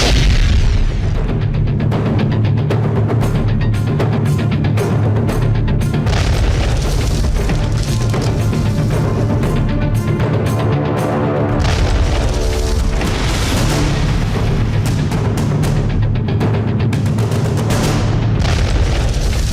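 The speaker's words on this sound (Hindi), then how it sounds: "पाकिस्तान ने सीज फायर तोड़ा तो भारतीय सेना ने बदले में पाकिस्तानी फौजियों पर फायर कर दिया।" Heavy artillery fire and explosions pound Pakistani army bunkers, a loud, relentless series of deep booms and blasts overlapping one another with rumbling low end, continuing without a break.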